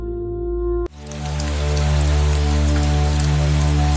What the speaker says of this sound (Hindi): रात के अंधेरे में बारिश की आवाज तेज हो रही थी।